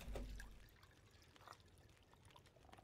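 Water pouring and trickling while filling a container in the survival game The Long Dark, a soft continuous liquid flow with faint dribbles, quiet and close, with no talking.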